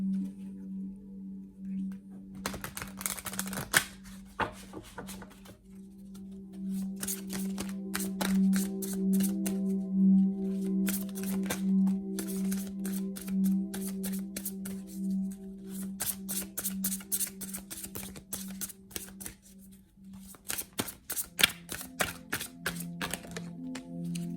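Oracle cards from the Magic of You Oracle deck being shuffled for a tarot-style reading, a long run of rapid papery riffles and soft card slaps with a steady low hum beneath, no talking.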